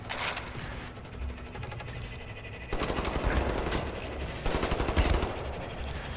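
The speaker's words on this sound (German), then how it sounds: "hier fliegen mir die Kugeln um die Ohren" Video game gunfire in Wolfenstein The New Order, rapid machine-gun bursts in two or three sustained volleys at moderate level, with no speech over them.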